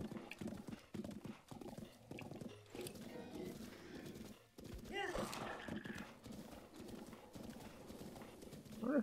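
A horse gallops in The Legend of Zelda: Breath of the Wild, with steady clip-clop hoofbeats and an occasional whinny running throughout, under someone talking over the gameplay.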